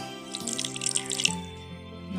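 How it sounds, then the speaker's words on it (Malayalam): Water is poured into chicken in a pan for a brief, close splashing and trickling pour lasting about a second, then a faint drip. No voices. "കുറച്ച് വെള്ളം ഒഴിച്ചാൽ മതി."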